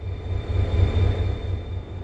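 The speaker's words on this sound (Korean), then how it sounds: "이 열차는 24년 2월부터 운행을 중단했다가 26년 5월 22일 새롭게 재개통한 정선 아리랑 열차입니다." A Jeongseon Arirang tourist train with a red-painted locomotive rumbles along the Jeongseon Line, a steady loud low drone with rhythmic pulsing and a faint high whine, no voices.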